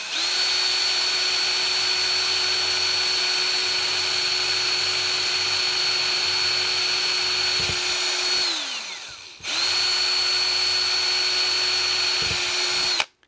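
Power drill boring pilot holes into a Kel-Tec SUB-2000 polymer buttstock, a steady high whine held for about eight seconds, spinning down, then a second burst of drilling; close and loud with no talking.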